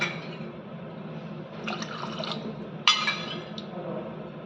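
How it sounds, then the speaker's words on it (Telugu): Water poured from a cup onto washed rice and moong dal in a cooking pot: a steady wet trickle and fill sound, with brief clinks and splashy bursts near the middle, close and moderately quiet. "మేము 5 కప్పులు వాటర్ పోసుకుంటున్నాం"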